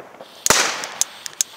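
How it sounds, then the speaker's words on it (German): Knallfrosch jumping-jack firecrackers bang on New Year's Eve, starting with one loud crack and a short crackling burst, then several sharp, separate pops at irregular intervals. "Oh, Knallfrösche."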